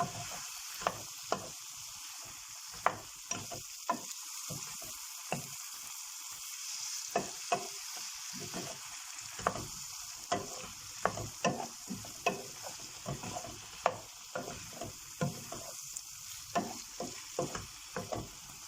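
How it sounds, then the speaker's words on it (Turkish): Squeezed eggplant pieces fry in a hot pan, a steady sizzle broken by repeated sharp scrapes and clicks of stirring at an irregular rhythm, close and clear with no voices. "Suyunu sıkmış olduğum patlıcanları hemen tavama alıyorum. Ve bu şekilde 5-6 dakika güzelce kavuralım."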